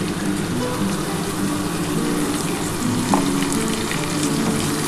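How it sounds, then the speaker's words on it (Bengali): Spice paste with added water frying in a kadai for a pabda fish dish, giving a loud, dense, continuous sizzle and crackle throughout with no pauses. "ভালো করে মশলাটা একটু কষিয়ে নিই"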